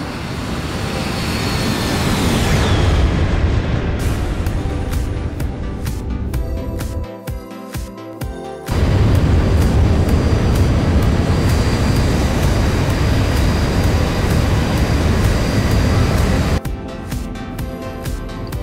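A Boeing 737 roars past in a flyby in the X-Plane 11 flight simulator, a loud continuous jet engine rush that briefly cuts out in choppy bursts before surging back, with no voices.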